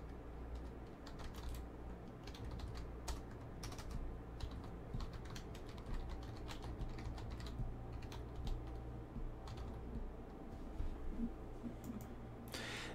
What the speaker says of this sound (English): Jeff Murr, sorry if that typing was a little loud, man.